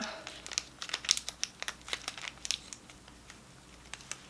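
Crinkling and rustling of plastic packaging as a small box of Relaxcharm sleeping ear plugs is opened close by, with quick irregular crackles over a few seconds and no talking.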